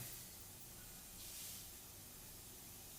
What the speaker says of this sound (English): There we go, that's spraying lovely.